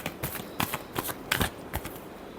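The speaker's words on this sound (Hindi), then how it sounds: "Last shuffle." Tarot cards are shuffled by hand up close, giving a quiet series of short papery riffles and slaps in an uneven rhythm.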